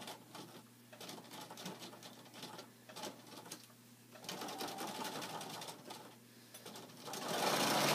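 A sewing machine stitching a straight 1/4 to 3/8 inch seam on a pillowcase, a rapid rhythmic clatter in short runs with brief pauses, ending in a louder, faster burst.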